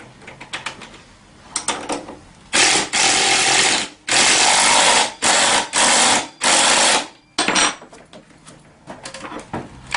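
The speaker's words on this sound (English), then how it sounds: "And your 14 millimeter, just ratchet it down good." A 14 millimeter ratchet tightens a front wheel bolt during Tao Tao CY50D scooter assembly, heard as several loud bursts of rapid clicking in close succession between quieter handling noises, with no talking.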